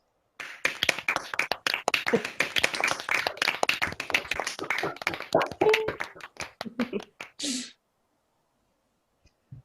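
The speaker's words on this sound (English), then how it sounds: "I now warmly welcome you to unmute yourselves and give one another a round of applause." Online graduates at a school of architecture ceremony unmute and clap, a patchy, uneven spatter of claps from many separate microphones that runs for about seven seconds, then cuts to near silence.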